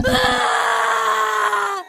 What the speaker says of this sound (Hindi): तभी गोपी की चीखने की आवाज आती है।